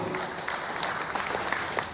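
Audience members at an agents' team gathering applaud in a short burst of continuous, dense clapping, fairly close and steady.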